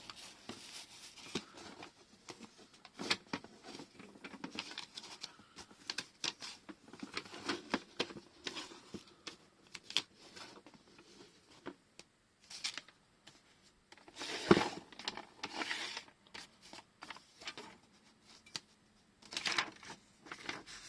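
Irregular crisp clicking and scraping, like a blade scoring paper, comes in short bursts with quiet gaps and a sharper thud near the middle, from a paper cutting machine.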